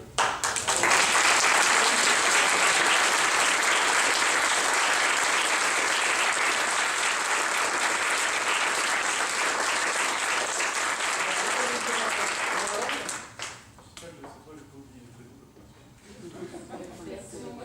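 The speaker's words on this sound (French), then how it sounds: "il faut les applaudir, je pense, encore une fois" An audience applauds after an amateur theatre performance of a comedy in a community arts centre, a dense, steady ovation lasting about thirteen seconds before tapering off into quieter room noise and a few scattered claps.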